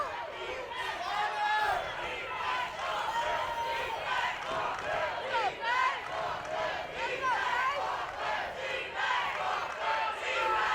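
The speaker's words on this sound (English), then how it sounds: "The crowd chanting defense." A football crowd at the 2014 WFA Championship, San Diego Surge against Boston Militia, chanting "defense" in loud rhythmic waves that fill the stadium, mixed with general crowd noise.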